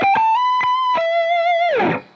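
Electric guitar played through a TC Electronic Spark booster in mid mode, a few sustained single notes with a bend and bright harmonics, ending in a downward slide into noisy decay; loud, close, no talking.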